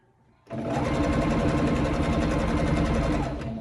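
An electric sewing machine stitches the hem of a stretch skirt, starting abruptly after a brief quiet and running in a fast, steady mechanical chatter until the end.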